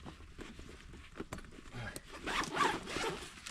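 A zipper on an air compressor's heavy-duty carry bag is pulled open close up, a soft rasping pull that builds toward the end of the clip, with light rustling and no speech.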